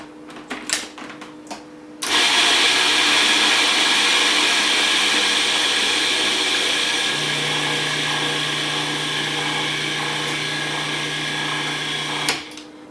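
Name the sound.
blender grinding gluten-free cracker flour mixture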